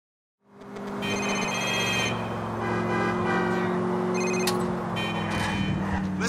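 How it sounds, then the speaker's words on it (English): Phone ringing inside GTA 4: The Ballad of Gay Tony, a repeated electronic ring tone over steady game ambience and traffic-like rumble, fairly loud and continuous with no talk. "gets a call from the Russian dude, and it's not a very nice phone call"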